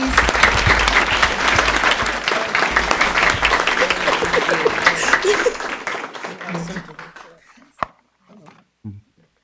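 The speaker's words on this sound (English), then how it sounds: "Let's give her a round of applause, please." Sustained round of applause from a room of people at a school board of education meeting, dense clapping for several seconds that thins out and stops, followed by a few scattered claps and quiet room noise.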